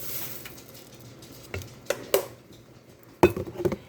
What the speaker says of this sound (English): Then you want to get it stirred in there. Mix really good.